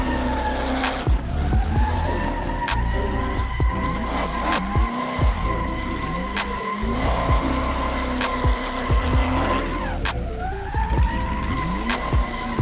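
A massive truck drifting in third gear, its tires skidding and squealing over a steady, loud engine roar, with repeated screeching slides that rise and fall throughout.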